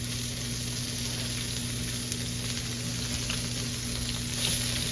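Potato-crusted salmon fillets fry in a pan just after being flipped, making a constant loud close sizzle with a faint steady hum underneath and no voices.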